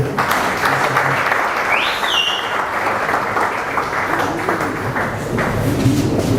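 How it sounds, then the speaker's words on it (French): An audience at a Congolese conference applauds in a steady, dense wash of clapping that carries on without a break, with a brief tonal ping partway through and faint voices underneath. "est-ce qu'on peut applaudir"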